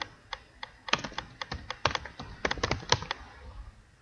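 Keys clatter on a computer keyboard as a short command is typed, a close run of quick irregular taps that bunches up in the middle and then stops.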